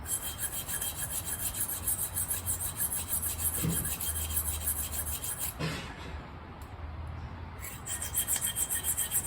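A D2 steel knife blade rubbing in steady strokes across a DMT diamond sharpening plate during an edge repair, a continuous close rasping scrape with a brief pause partway through.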